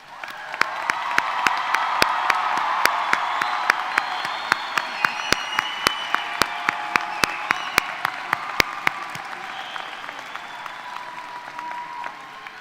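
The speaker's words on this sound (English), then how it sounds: "Please stand and let's give you another round of applause." A large audience at a high school graduation ceremony applauds steadily for about twelve seconds, a dense roar of clapping with a few sharper claps standing out before it slowly tapers off.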